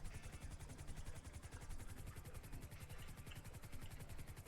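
A video game helicopter engine drones steadily with a fast rhythmic rotor thump and a broad whine above, continuous and fairly loud with no talk.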